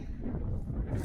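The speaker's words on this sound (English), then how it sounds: "God, it's so windy" Low, rumbling wind buffeting a microphone at a truck stop in Mesquite, steady and loud throughout with no voices.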